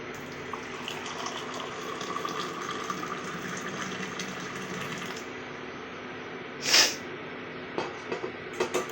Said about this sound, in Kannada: ಇವಾಗ ಒಂದು ಕಪ್ ಬಿಸಿನೀರನ್ನ ತೊಗೋತಾ ಇದ್ದೀನಿ